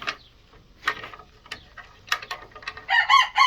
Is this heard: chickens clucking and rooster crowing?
yes